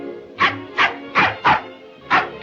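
The small dog Toto barks in The Wizard of Oz film, five sharp, close barks at fairly even intervals with short pauses between them.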